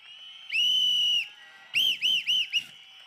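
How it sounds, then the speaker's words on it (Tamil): Whistles blown by a crowd at a TVK political rally, one long shrill blast followed by a quick run of three or four shorter sharp bursts, loud and close with no talking. "எங்களின் விசில் சத்தம் விண்ணை பிளக்கின்ற வகையில் இதோ நாங்கள் ஊதுகிறோம்"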